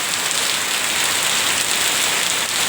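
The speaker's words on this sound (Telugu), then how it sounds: "చాలానే వర్షం వస్తుంది గాయస్" Heavy rain pours steadily on surfaces and a road outside a home, a dense continuous hiss with no gaps, fairly loud and close, with no voices.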